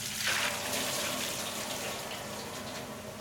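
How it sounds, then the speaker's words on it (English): A hot knife blade plunged vertically into warm oil at about 60 degrees Celsius, giving a steady hissing, bubbling wash of sound after a brief sharp onset, continuous and fairly close with no talk. "Once it's been normalised, then you vertically plunge it into oil"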